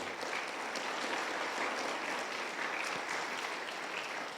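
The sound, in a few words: audience clapping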